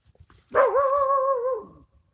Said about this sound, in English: That's the sound of Huckleberry being a dog